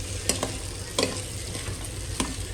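Poha being stirred in a pan, a few sharp spoon scrapes over a steady low sizzle, no voices.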